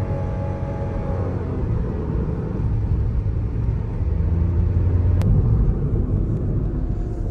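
A Nissan GTR R33 pulls hard on the road, a continuous low engine rumble and whir that swells gradually as it accelerates, with a short sharp tick partway through and no talking.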